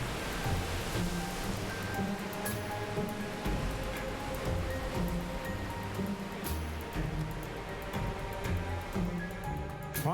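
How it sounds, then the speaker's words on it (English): Steady, heavy rain pours down in a dense, continuous roar, with low music humming underneath throughout. "They rise and cool, then rain falls in torrents."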